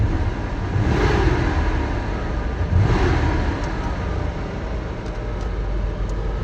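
A 1990 Ford Ranger 4x4 engine idles steadily with a broad, continuous rumble, swelling slightly twice as if revved lightly, heard up close with no talk.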